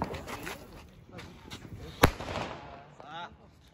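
Diwali firecrackers and sky shot fireworks go off outdoors, with one sharp loud bang standing out among fainter pops while people talk and shout throughout.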